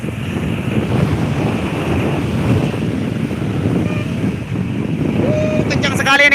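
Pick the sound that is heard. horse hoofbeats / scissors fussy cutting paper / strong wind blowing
strong wind blowing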